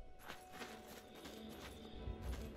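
Horse hooves clip-clopping on the ground in The Elder Scrolls IV: Oblivion, with a faint neigh, steady and moderately close, no talking.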